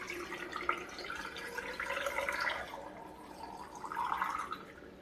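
Water glassing solution is poured over eggs in a container, a soft, close trickle and splash of liquid running steadily for a few seconds, quiet and without talk.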